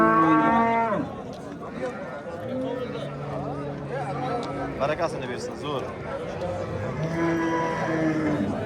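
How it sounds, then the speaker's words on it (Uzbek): Cattle at the Oqdaryo Yangiqurgon livestock market give several loud, drawn-out moos, one near the start and more toward the end, over steady crowd noise and people talking. "Sigirlar juda ham ko'p tushgan bugun."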